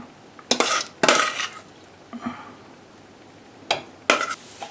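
A biryani mixture is stirred into rice in a pot, heard as a few sharp spoon scrapes and clatters against the pot in short bursts separated by quieter pauses.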